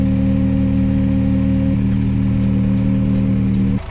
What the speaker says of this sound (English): we'll just use a tractor to take it over